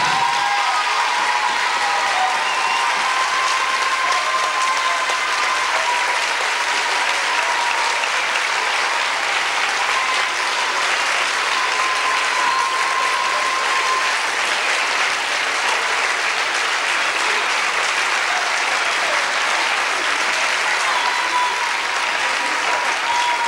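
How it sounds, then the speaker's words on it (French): Sustained audience applause fills a hall at La Chapelle-Saint-Mesmin, steady and dense clapping from a sizable crowd for the full stretch without pause. "vous pouvez l'applaudir"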